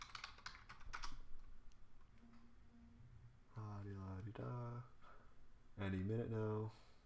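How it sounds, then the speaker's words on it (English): Password typed on a computer keyboard: a quick run of close key clicks comes first, then fades as a person talks over a low room hum. "Type in my password."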